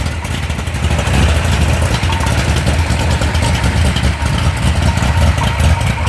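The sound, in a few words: Mopar 360 engine with RPM aluminum heads idling choppily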